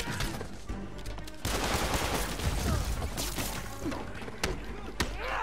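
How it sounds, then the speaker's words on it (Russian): Gunfire in Marvel's Spider-Man, a rapid run of thumping shots and sharp bangs under game music and effects, with a voice speaking over part of it. "Во-первых, выстрелы."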